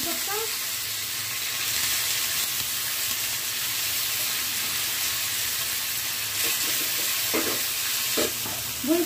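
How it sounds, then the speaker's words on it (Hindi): Tadka of mustard seeds, chillies, asafoetida and curry leaves sizzles in hot oil for idli, making a continuous crackling hiss, with a few sharper pops and spatters near the end. "ये तड़के की मैंने तैयारियां कर रखी हैं, बस अब मुझे इसको छौंकना है।"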